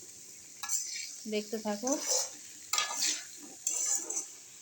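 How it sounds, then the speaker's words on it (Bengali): Potato pieces fry in a pan and are stirred, with soft sizzling, scraping and a few metallic clinks of a utensil against the pan, while someone briefly speaks nearby. "এখানে আলু ভাজা হচ্ছে।"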